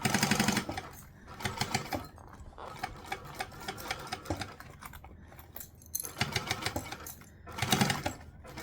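A sewing machine fitted with a walking foot stitches fabric around corners in bursts of rapid mechanical clatter, separated by brief pauses, close and clear with no talking.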